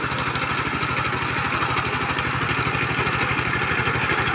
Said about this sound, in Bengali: চাষিরা চাষ করছে পাওয়ার টিলার দিয়ে